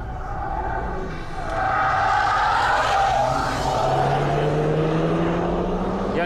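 Tires squeal loudly as the rear of a car slides through a right-hand corner on a race track, an Audi S1 or Renault Megane RS Trophy lap-timing run, with a steady engine drone underneath.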